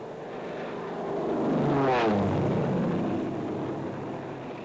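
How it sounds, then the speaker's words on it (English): A World War II C-47 transport or small liaison plane used for dropping parachute infantry equipment and troops drones past, swelling to a peak mid-clip with a falling pitch sweep and then fading away, with no voices. "Both C-47s and small liaison planes are used for dropping the equipment and personnel."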